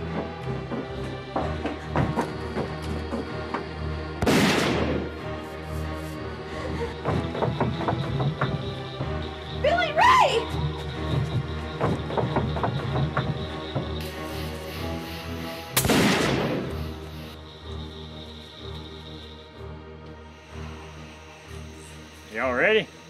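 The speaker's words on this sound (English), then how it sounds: "Those are gunshots." Several sharp, loud gunshots ring out at irregular intervals amid ongoing background noise and occasional voices, echoing nearby.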